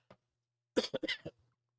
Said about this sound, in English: I'm over here sniffling, coughing